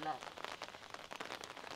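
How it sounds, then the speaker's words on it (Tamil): Rain falls over a rooftop terrace garden, a faint, steady patter of drops on surfaces with scattered crisp taps and no voices. "அதனால் மழை பெய்யுதுல்ல"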